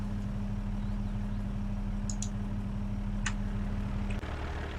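A tractor engine idles steadily in the farming game Cattle and Crops, a constant low hum that runs alone for about four seconds and then shifts slightly near the end.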